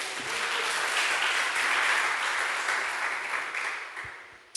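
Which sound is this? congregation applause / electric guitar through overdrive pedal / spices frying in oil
congregation applause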